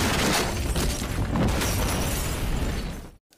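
A loud, roaring gas stove explosion in a basement that rumbles on for a few seconds before cutting off abruptly to silence.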